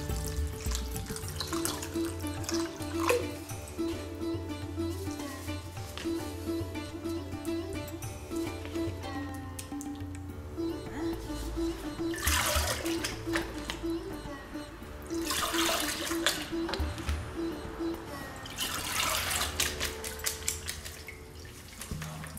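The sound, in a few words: water draining from squeezed cottage cheese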